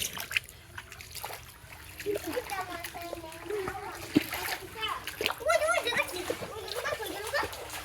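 Fish thrash and splash in shallow floodwater in a home courtyard, with sloshing and trickling water up close while a young voice talks over it.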